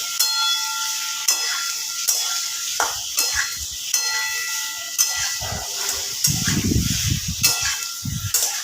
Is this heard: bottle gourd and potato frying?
yes